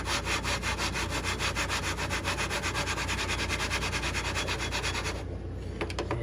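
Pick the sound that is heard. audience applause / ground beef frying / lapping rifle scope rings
lapping rifle scope rings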